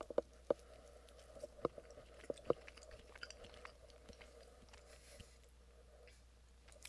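Someone tastes a sample of Hot Ones Last Dab Apollo hot sauce. Quiet, close mouth sounds come through as soft chewing and smacking clicks in an irregular rhythm over a faint background hum.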